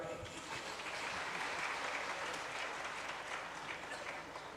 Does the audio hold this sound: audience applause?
yes